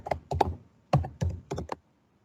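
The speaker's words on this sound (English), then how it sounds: "So you just type that in." Keys clack on a computer keyboard in short clustered bursts while personal details are typed into an online form. The strokes are close and crisp, and the typing stops after about two seconds.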